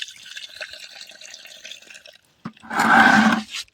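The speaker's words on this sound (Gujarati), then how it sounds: "થોડું પાણી નાખી દઈએ" Water splashes and pours in a loud burst lasting about a second, after a stretch of quieter clattering background.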